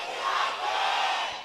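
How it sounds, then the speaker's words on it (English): Esports arena crowd roaring and cheering for CJ Entus during Game 3 against KT Rolster in a League of Legends LCK Summer match, a loud, sustained wash of many voices with no break. "CJ fans going nuts"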